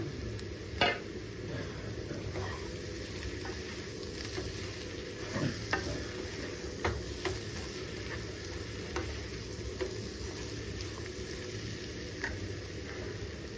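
Drumstick pieces frying with onions in a pan for a drumstick onion pulusu curry, a steady sizzle with irregular scrapes and clinks of stirring throughout.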